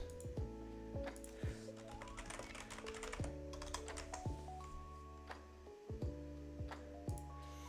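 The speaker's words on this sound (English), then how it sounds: "So, sorry, my typing." Rapid typing on a computer keyboard at a desk, with close, crisp clicks in uneven bursts and no talk.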